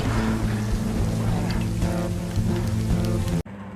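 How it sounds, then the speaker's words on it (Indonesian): Heavy rain pours steadily in a dense, roaring wash with a low rumbling undertone, loud and constant before cutting off abruptly near the end. "Hujan turun dengan deras"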